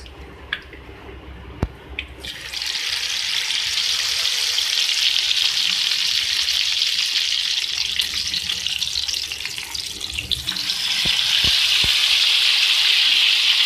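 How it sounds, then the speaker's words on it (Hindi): Marinated chicken leg pieces frying in hot oil give a loud, steady sizzle that starts abruptly and stays strong throughout, with a few sharp crackles and pops near the end. "इसको फ्राई कर लेंगे"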